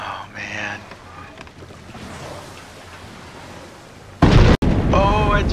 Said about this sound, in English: Oh, it just erupted!